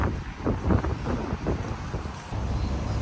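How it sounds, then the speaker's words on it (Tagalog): Wind blows across the microphone in rough, gusty rumbles, steady throughout with no voices. "Hangin."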